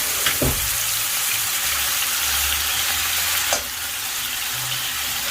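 Marinated beef bulgogi frying in canola oil in a hot pan, a loud, steady hiss and crackle right up close with a couple of sharper pops near the start, no talking.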